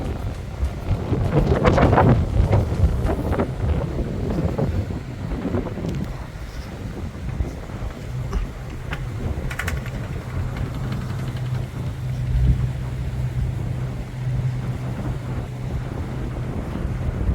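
A sailboat under pure sail on open water off Raiatea, French Polynesia, with steady wind buffeting the microphone, a low rushing hum and waves splashing against the hull, continuous and unbroken by speech.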